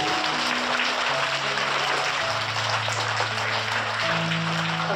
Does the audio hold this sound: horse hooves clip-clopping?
no